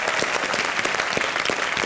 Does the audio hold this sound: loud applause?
yes